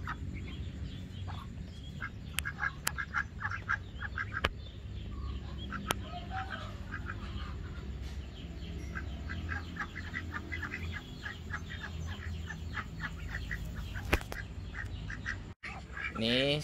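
Muscovy ducks and other poultry on a small home duck farm in Karawang, with repeated quacks and clucks scattered near and far over a steady outdoor background, while a person talks at times.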